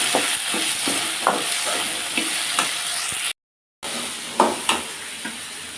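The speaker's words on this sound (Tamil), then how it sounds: "தக்காளி போட்டுக்கலாம். நல்லா வதக்கிக்கலாம். தக்காளி வதங்குற அளவுக்கு கொஞ்சம் உப்பு போட்டுக்கலாம்." Tomatoes with salt sizzle steadily as they sauté in a hot pan for a ridge gourd peel chutney, with repeated scraping stirs and a brief silent gap partway through.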